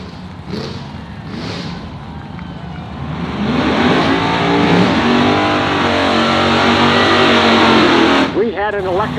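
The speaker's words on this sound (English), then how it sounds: "He's got more power than this car should ever need. Can he get it down the track?" A wheelie drag racing car roars off down the track, its engine swelling to a loud, sustained howl that sweeps upward as it accelerates, with an announcer talking over the start.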